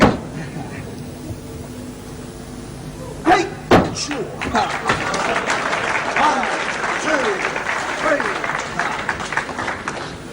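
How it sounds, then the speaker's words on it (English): A quiet wrestling crowd at Woking's Centre Hall breaks into scattered applause after a couple of loud slams, with a commentator talking over the clapping. "Applause for Kirkwood to get out"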